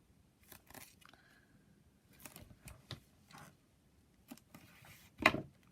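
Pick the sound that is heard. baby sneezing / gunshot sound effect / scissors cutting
scissors cutting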